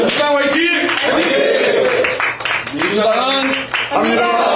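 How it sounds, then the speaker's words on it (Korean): An audience claps at a Democratic Party rally in Busan, with a steady patter of applause running under loud, amplified speech and cheering. "여러분 박수 보내주시기 바랍니다"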